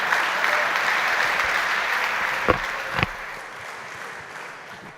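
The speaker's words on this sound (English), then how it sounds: "Big applause for our panelists, and goodbye for now." An audience at a conference main stage applauds panelists, a steady, dense clapping from a crowd that fills the room evenly throughout, with a couple of sharper claps standing out near the middle.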